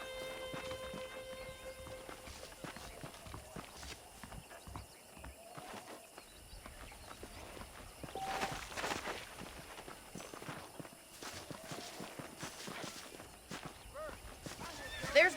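Horses walk in the Red Dead Redemption video game, with soft irregular hoof clops on a dirt path, fairly faint under a voice talking and quiet game ambience.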